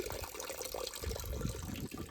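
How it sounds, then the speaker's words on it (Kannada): Water gushes and splashes as it is poured out after cleaning a cooking pot, a faint, continuous watery rush lasting a couple of seconds. "ಈಗ ನೀರು ಬಿಡ್ತೀನಿ ಹೊರಗಡೆ"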